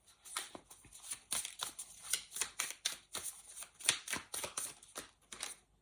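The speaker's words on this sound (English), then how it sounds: "Let's shuffle this deck." A deck of tarot cards being shuffled close up, a series of quick crisp riffling bursts in an irregular rhythm, alone without talk.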